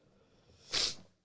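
A single short, breathy sneeze burst, close and fairly quiet, with near silence around it.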